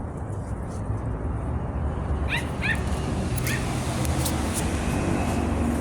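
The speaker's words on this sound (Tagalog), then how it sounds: "Aso ng kapitbahay." A few sharp, high-pitched dog yips come from some distance, in quick pairs, over steady road noise.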